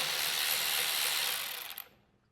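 A ratchet with a swivel socket spins out carburetor bolts on a Toro Power Max 726 OE snow blower, a close, rapid run of clicking that tapers off and stops after about two seconds, with no talking.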